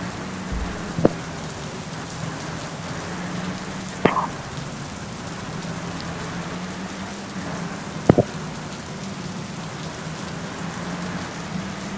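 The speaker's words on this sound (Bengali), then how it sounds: "আবারও বৃষ্টি শুরু হয়ে গেল" Steady rain hisses throughout, with a low engine drone beneath and a few sharp knocks scattered through it. No one speaks.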